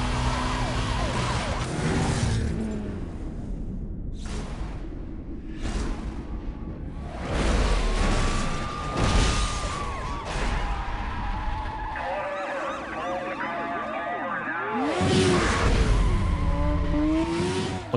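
Racing car in Need for Speed Most Wanted, engine revving and accelerating hard toward a bridge, with tire squeals and skids in bursts over a dense, loud mix of game noise.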